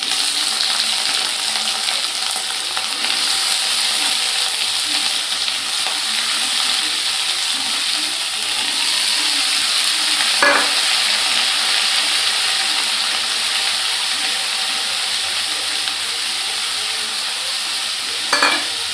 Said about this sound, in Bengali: এখানে দেখো পেঁয়াজ দিয়ে দিয়েছি তেলের মধ্যে